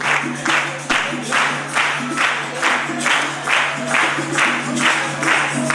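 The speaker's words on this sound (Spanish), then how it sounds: "Ahora solamente este lado aplaude." Part of a classroom or lecture audience claps in rhythmic, evenly spaced bursts, steady and fairly close, with a low hum underneath and no talk.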